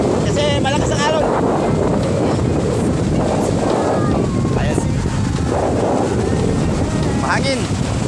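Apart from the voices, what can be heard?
strong wind and big ocean waves at the beach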